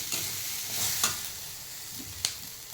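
Grated coconut sautés in a hot pan with a bright, steady sizzle and a few sharp stirring scrapes, heard alone without talk.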